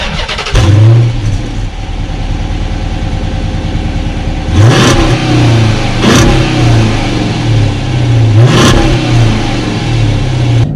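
A 2011 Dodge Charger R/T V8 engine revving hard while driving, loud and close throughout, with repeated rising pulls and gear shifts punctuating a steady throaty roar.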